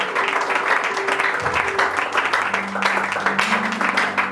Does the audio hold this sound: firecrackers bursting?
no